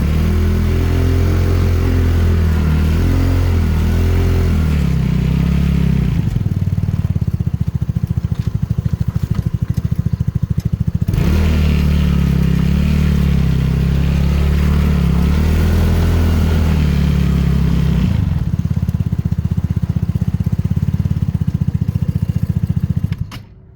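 A Yoki Kart 200 off-road buggy's small engine drones and revs loudly and continuously at medium revs, its pitch rising and falling as it drives over rough ground.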